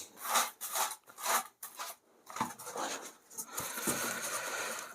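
Rasping strokes of a hand saw cutting a wooden piece for a beehive repair, several rhythmic close strokes followed by steadier, continuous scraping, with no talk.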